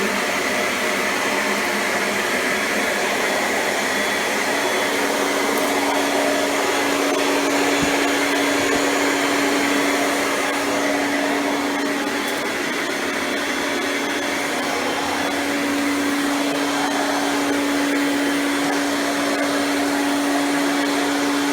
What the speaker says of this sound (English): the motor is turning at high speed to gain more suction